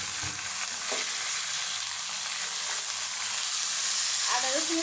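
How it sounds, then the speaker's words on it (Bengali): Chicken pieces fry in hot oil with ginger, garlic and spices, giving a steady close sizzle with a few stirring scrapes and a brief louder spatter near the end. "আদা রসুনের সাথে মাংসটা ভালোভাবে নেড়ে ছেড়ে মিশিয়ে নেব।"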